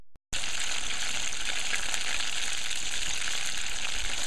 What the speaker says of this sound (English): So I'm gonna be frying there until it comes brown on one end